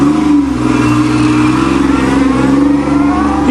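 Pontiac Fiero V6 car pulling away in first gear, its engine revving hard and steadily throughout, a loud continuous mid-pitched drone close by with rising tone near the end.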